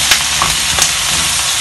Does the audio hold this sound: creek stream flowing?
no